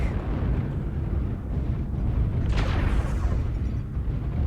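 Artillery strike explosions in the mech combat game MechWarrior Online, a dense continuous rumbling roar of blasts with a brighter burst midway, loud and close with no talk.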